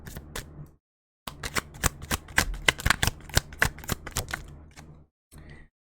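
Tarot cards being shuffled up close, a rapid series of crisp riffling snaps and slaps in bursts, pausing briefly between shuffles, with no voices.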